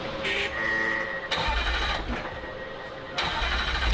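A Jaguar SVR sports car fires up, with a starter whir and a loud bark into a rumbling idle, followed by a second restart crank and catch. The sound is close and has no speech.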